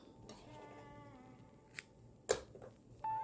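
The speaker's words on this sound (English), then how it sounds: "And then I'm going to cut my yarn" Scissors snip through yarn while crocheting boho hoop earrings, giving a couple of short, crisp cuts close by in a quiet room with a faint whistle-like tone near the end.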